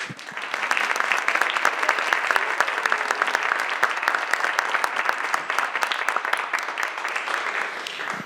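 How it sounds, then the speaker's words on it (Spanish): Sustained audience applause at an academic symposium on US Spanish, dense steady clapping from a full room lasting about eight seconds without a break and with no voices. "Un aplauso, por favor."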